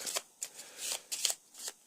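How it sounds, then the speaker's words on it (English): A deck of game cards is shuffled close up in several quick riffling bursts, crisp papery flutters separated by short pauses. "a very good shuffle"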